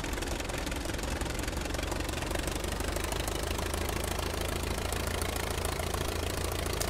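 A Curtiss JN-4 Jenny biplane in Microsoft Flight Simulator with its engine at low throttle, giving a steady, rough, knocking drone close up with no break and no talk.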